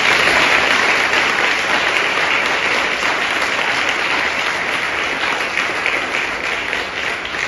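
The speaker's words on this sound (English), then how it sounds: "Clap for Jesus, people." Sustained applause from a church congregation, loud and dense, holding steady for several seconds with no talking over it.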